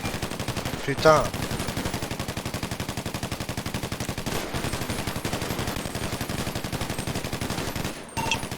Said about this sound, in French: Ça nous tire dessus, hein. On tire.